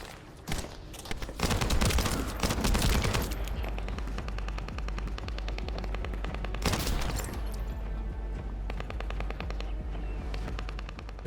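Sniper rifle fire in the shooter game The First Descendant booms in dense, repeated bursts, loud and close over constant rumbling battle noise.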